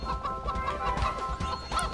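A chicken in a video game clucks after being shot, giving a run of short, fairly faint squawks over a busy bed of game noise.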